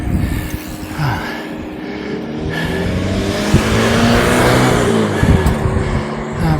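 A car drives up a short climb around a curve behind a cyclist on a rural road, its engine rising into a loud, close whoosh before passing, with some mechanical whine.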